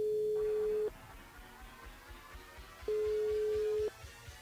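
Two long steady ringback tones from a telephone call placed live on a morning radio show, each about a second long with a pause between, heard clearly over faint background hiss.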